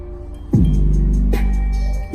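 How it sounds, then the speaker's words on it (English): A modified Mazda 6 with a loud, dirty-sounding exhaust blats out two deep, close revs, a throaty low drone holding steady between them. "You hear the audio of my car? That shit is loud though."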